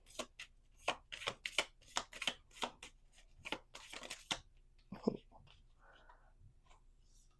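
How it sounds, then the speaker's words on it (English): A small deck of cards is shuffled and drawn by hand: a quick run of close, crisp riffling flicks and slaps, then a few softer slides and taps as cards are pulled and laid down, with faint voice. "It's a very tiny little deck. So we're going to pull like 3-4 cards."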